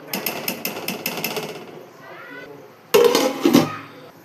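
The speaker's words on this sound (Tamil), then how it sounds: "அரிசியை உள்ளே போட்டுட்டு நல்லா கிண்டி விட்டுக்கோங்க." Rice stirred with a metal spoon in a pot for chicken biryani, a quick run of rhythmic clinks and scrapes, a quieter pause, then a loud burst of clattering close by.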